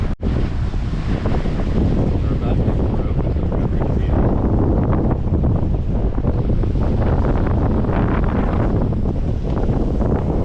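Strong wind of 25 knots gusting 30 roars steadily across the microphone on a sailboat in the Bahamas, with the rush of waves and sea surf beneath, continuous and loud throughout.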